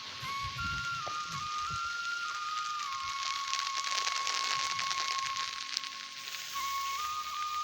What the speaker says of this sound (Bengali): তার সব কষ্ট আজকে বৃষ্টি হয়ে মাটিতে পড়ে যাচ্ছে